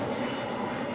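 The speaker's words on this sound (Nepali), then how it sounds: "प्लेनै पो आयो त यार" An airplane passing overhead, a broad, steady engine roar that is fairly faint and distant, holding evenly through the moment without speech.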